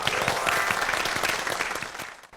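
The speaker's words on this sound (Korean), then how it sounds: "박수로 환영합니다." A TV studio audience breaks into brisk, loud applause welcoming a group of senior citizen reporters, many hands clapping densely before the sound tapers off quickly.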